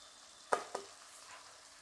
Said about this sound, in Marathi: याला छान परतून घ्यायचं आहे तेलामध्ये